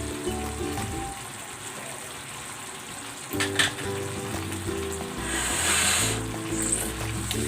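Chicken in barbecue sauce sizzles in a pan with a continuous close frying hiss, a brief clatter partway through and the sizzle swelling slightly toward the end.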